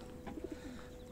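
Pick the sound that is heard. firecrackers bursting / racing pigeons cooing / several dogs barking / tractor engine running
racing pigeons cooing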